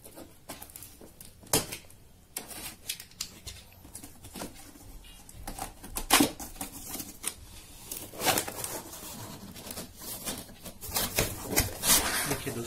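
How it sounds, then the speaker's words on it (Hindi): Cardboard box of a Matrix Eternity PENX PBX telephone system being cut open with a cutter knife, a continuous series of close scratchy rasps and small crackling bursts lasting several seconds with no talking. "पहले इसको कटर से काट लेते हैं"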